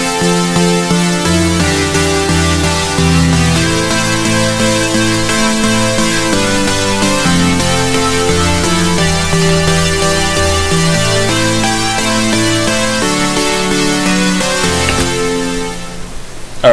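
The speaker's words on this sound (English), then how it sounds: "Alright, that's what the main chorus lead is going to sound like." Chorus synth lead, layered with an extra synth for a rich, bass-heavy sound, plays loud, dense sustained chords and melody continuously before cutting off at the end.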